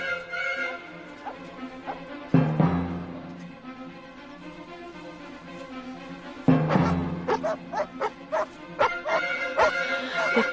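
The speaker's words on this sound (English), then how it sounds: "Loose the dogs." A pack of hunting dogs bursts into loud barking and yelping, first one sharp flurry, then a second, denser round of overlapping barks that continues in quick, uneven bursts close by.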